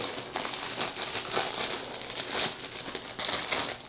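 Disposable plastic potty liner bags for a Potty Plus travel potty crinkle and rustle as they are handled up close, in repeated uneven bursts of crackling plastic without talk.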